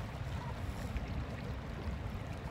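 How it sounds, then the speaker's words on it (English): Steady wind buffeting over an open lake on a boat's first outing, a continuous low rumble with faint water movement, no voices. "Windy, you can probably hear it too."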